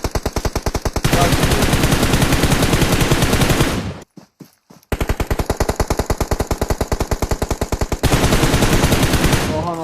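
Rapid machine gun fire in an online shooter video game, long sustained automatic bursts at close range, loud and continuous, broken once by a brief pause before firing resumes.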